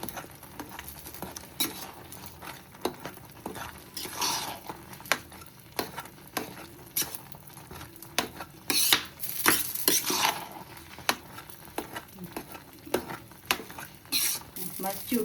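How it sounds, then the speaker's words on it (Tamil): A spoon mashes cooked sambar rice in a pot, giving soft repeated squelching and scraping taps with sharper clinks against the metal, close and fairly quiet throughout. "இதை நல்லா மசிச்சு விடுங்க."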